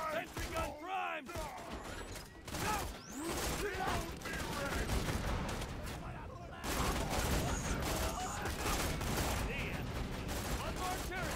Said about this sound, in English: Sentry gun primed!